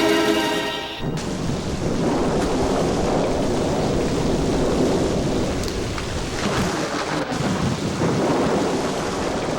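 Heavy rain pours down steadily while a loud roll of thunder rumbles through the storm, the downpour continuing dense and close after a brief quieter start.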